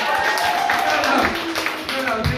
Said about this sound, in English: No, please don't clap.